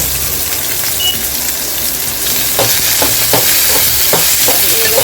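Asafoetida sautéing in hot oil with mustard seeds for a potato curry gives a loud, constant sizzle, joined partway through by a quick series of scraping stir strokes.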